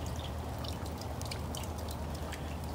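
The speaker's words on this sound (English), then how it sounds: "go for a walk in this freezing cold rain" Cold, freezing rain falls steadily outdoors, a continuous dense patter with scattered drips and splashes, soft and even throughout with no voices.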